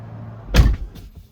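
A car door on a Tesla-type vehicle swings open with a single short, loud mechanical clunk and latch release, followed by a fainter rattle as it settles.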